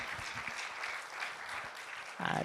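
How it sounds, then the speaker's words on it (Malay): At a company event, an audience gives the emcee a round of applause in steady, moderately loud clapping. A voice cuts in abruptly at the very end. "Kita berikan satu tepukan yang gemuruh kepada beliau."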